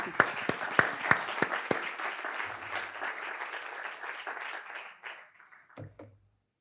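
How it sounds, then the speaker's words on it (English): Audience applause for panelists at an alumni panel discussion, a few sharp claps up front merging into a moderate round of clapping that thins and fades out over several seconds. "So just give them a round of applause again."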